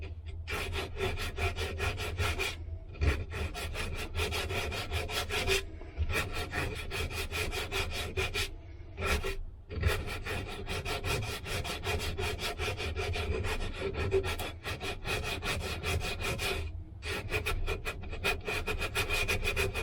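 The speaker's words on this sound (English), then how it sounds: "let's take our sandpaper and give this a brush off." Sandpaper rubbed back and forth over a hand-carved wooden spoon, a steady close scratching with rhythmic strokes and a few short pauses, with no talking.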